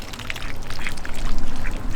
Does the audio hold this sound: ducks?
yes